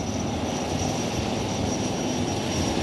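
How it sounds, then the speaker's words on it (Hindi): A Sea King 42B anti-submarine naval helicopter flies past during the commissioning ceremony of India's first indigenous aircraft carrier, INS Vikrant. The engine roar is steady, loud and dense for the whole stretch, with no voices. "इनके ठीक पीछे है 42B पनडुब्बी प्रतिरोधी और Seeking 42 Bravo हेलीकॉप्टर"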